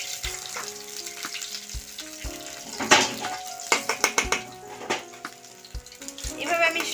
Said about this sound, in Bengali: এভাবে আমি সব মাথাগুলো ভেজে নেব।